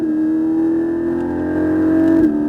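Porsche 718 Cayman GT4 at full throttle on a circuit, its engine making a loud, steady, high droning roar that climbs slightly and then shifts at the end, heard from inside the car.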